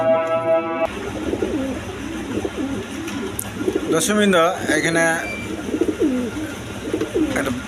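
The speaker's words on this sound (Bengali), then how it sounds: "এক পেয়ার ব্ল্যাকলেস শার্টিং কবুতর দেখেন খুব ডাকাটাকি করতেছে" Black-lace shirting pigeons coo repeatedly alongside other pigeons in a loft with Jacobin and Maltese birds, the calls rising close and clear over a steady background hum while someone talks between them.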